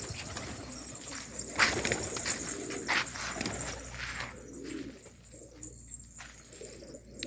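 A pigeon coos, a soft low call repeated a few times nearby, over faint background noise and a few rustles.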